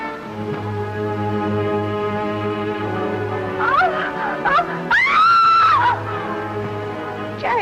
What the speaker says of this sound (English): Jerry, that scream, did you hear it?